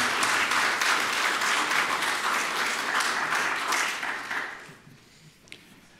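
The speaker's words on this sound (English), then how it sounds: "give them a big hand clap of praise" A church congregation at a worship service applauds with steady, dense clapping that fills the room, then tapers off and fades to near quiet over the last second or so.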